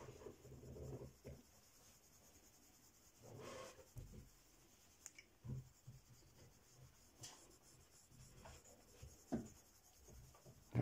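Pencil shading a balloon drawing on paper with very light pressure, soft scratchy strokes rubbing in uneven bursts, close and faint throughout, with no voice.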